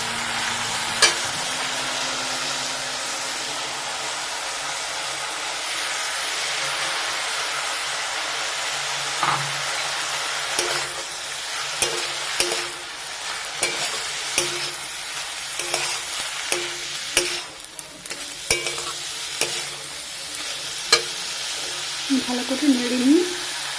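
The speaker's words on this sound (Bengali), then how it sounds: "মশলাটাকে ভালো করে নাড়াচাড়া করার পর এখন আমি মুসুর ডালটা দিয়ে দেবো" Spices fry in a pan before red lentils go in, giving a steady close sizzle and hiss with scattered scraping clicks from stirring all the way through and a brief voice near the end.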